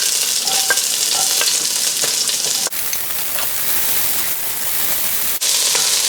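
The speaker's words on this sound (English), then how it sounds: "in a preheated pan, put in some oil. So I'm using canola oil. Add in your onions." Onions sautéing in hot canola oil in a preheated pan, a steady loud sizzle and crackle that runs unbroken with brief dips, with no talking.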